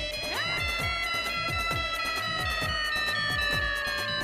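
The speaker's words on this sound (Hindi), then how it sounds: "माय डियर बेना का फोन" A phone ringtone plays a steady, bright looping electronic melody with a repeating rhythmic pulse underneath, continuous and fairly prominent, with no talking over it.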